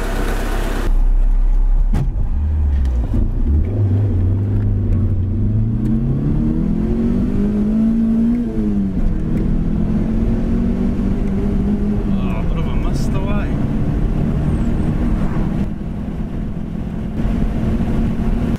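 A car fitted with a fiberglass Evo bonnet drives off with its engine misfiring, the engine note rising and wavering as it accelerates, loud and close throughout, with people talking over it.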